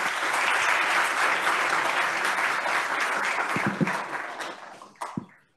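Audience applause at a talk on artificial intelligence, a dense, sustained burst of clapping from a crowd that thins out into a few last claps and then stops.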